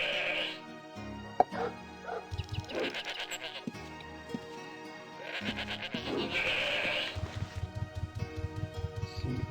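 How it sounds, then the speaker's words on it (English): Mountain goat bleating in Ultima Online: several nasal, wavering bleats come in separate bursts, with short thumping steps and clicks between them and a rapid pulsing patter near the end. "Can't even take on a mountain goat."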